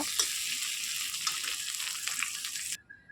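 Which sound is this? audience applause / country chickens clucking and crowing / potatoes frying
potatoes frying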